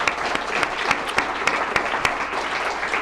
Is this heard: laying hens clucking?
no